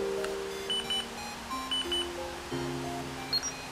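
A few soft electronic beeps from a Polaroid Snap instant camera chirp quietly over a faint background hum, spaced at short, irregular intervals.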